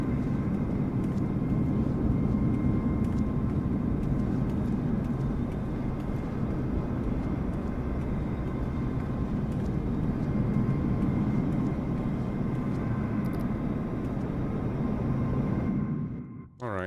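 Airbus A330 in Microsoft Flight Simulator 2024, a loud steady roar of jet engines with a constant humming whine, unbroken for most of the stretch before cutting off abruptly near the end.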